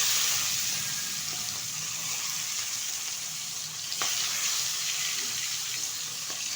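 Tengra fish sizzle gently in hot mustard oil, a steady hissing crackle at moderate volume with a couple of faint clinks from the pan, heard without any talking.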